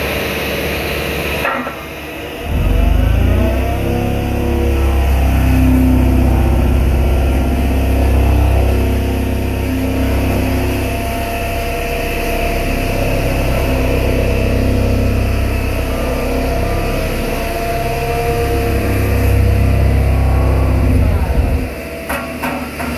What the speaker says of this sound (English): one of our 84-inch Dynapac rollers.